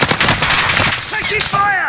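Rapid automatic gunfire rattles loud and close in the Warzone video game, a dense stream of bursts with a tonal radio-like voice cutting in near the end.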